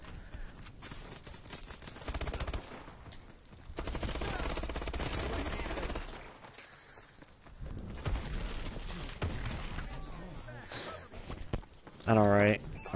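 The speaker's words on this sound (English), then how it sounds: "I was just shooting random and everything." Rapid automatic gunfire and single shots from the video game Call of Duty: Advanced Warfare, in repeated bursts and mixed with game noise, heard over a player talking for most of the time.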